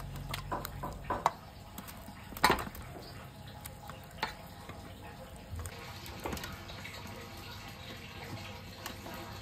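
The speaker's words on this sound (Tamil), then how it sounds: "மசாலா தடவை திரும்பி பொரிக்கணும்." Masala-coated chicken frying in a pan for chicken majboos gives a soft, steady sizzle with occasional stirring clatters and scrapes, fairly quiet and close.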